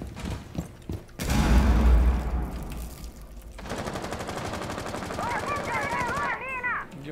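Bursts of rapid automatic gunfire in Rainbow Six Siege rattle loudly, followed by sustained firing with a voice talking over it, then rising whistling tones.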